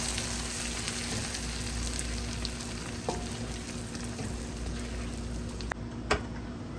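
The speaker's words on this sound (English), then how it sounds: "Now we're gonna go ahead and add the onions and everything to this." Onions sizzle steadily in a pan as they are added for chana dal, a continuous close frying hiss with a couple of sharp clicks of utensils near the end and no talking.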